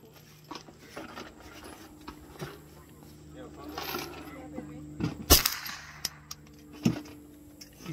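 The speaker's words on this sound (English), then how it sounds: "You're shooting a little bit low." Gunshots from a gun fired outdoors: a handful of sharp, isolated cracks, one much louder than the rest, break up a quiet outdoor background with faint voices.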